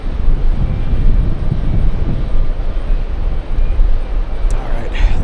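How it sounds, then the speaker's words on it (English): An Air India airliner taxis toward the runway for takeoff, its engines giving a loud, broad, continuous roar close by, with a few brief higher sounds near the end. "Air India is definitely heading to the runway for takeoff"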